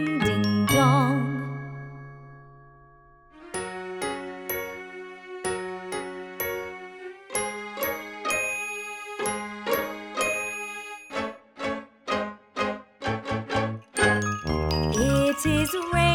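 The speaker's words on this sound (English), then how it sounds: "Morning bells are ringing, ding, ding, dong, ding, ding, dong." Bright chiming bell tones in a children's nursery rhyme, rising in a sustained opening chord, then a rhythmic ding-dong pattern of repeated bell notes over bass, ending in a quicker run of chimes.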